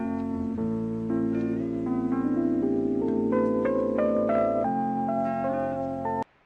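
Bridge section of a sample-based hip-hop beat, with sustained melodic sampled chords and a low bass line shifting through changes, playing steadily and alone before cutting off abruptly near the end.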